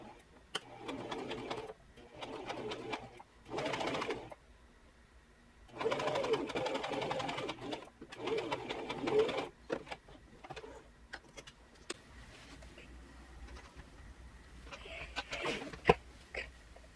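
A home sewing machine stitches the center front seam of a bias-cut maxi dress in several separate bursts of fast needle chatter, close by and fairly quiet, with pauses and fabric handling between runs.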